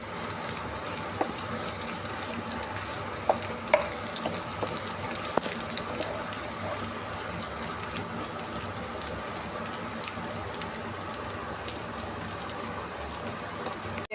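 Tempering spices for moong dal sizzle and crackle steadily in hot oil in a pan, a continuous close frying hiss with occasional louder pops.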